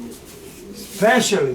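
Pigeons coo in a loft at feeding time, soft low calls rising louder near the end while someone talks over them.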